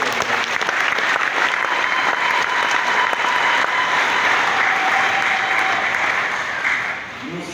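A church congregation breaks into sustained, loud applause to acclaim the Lord during Sunday Mass, steady and dense throughout before easing slightly at the end.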